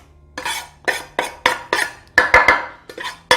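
Chopped ingredients for homemade ketchup, including crushed garlic, drop and clatter into a cooking dish in about a dozen loud, close, rhythmic knocks and scrapes, with no talking.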